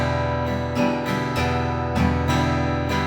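Acoustic guitar strummed in a syncopated pattern, close and steady, with sharp chord attacks falling at uneven intervals over about three seconds and no voices.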